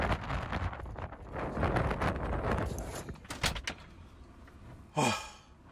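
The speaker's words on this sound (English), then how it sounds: "It's windy, folks." High wind buffets the microphone beside a van, a rough, gusty roar that swells and eases over several seconds. A brief breathy exhale cuts through near the end.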